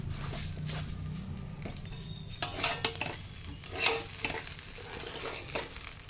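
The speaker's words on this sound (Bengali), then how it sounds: "এবার আস্তে আস্তে আস্তে আস্তে নাড়াচাড়া করে ভাজা করতে থাকবো।" Fried rice with sugar is stirred in a pan over heat, a soft sizzle under several sharp scrapes and clinks of a spoon against the pan, fairly quiet and close.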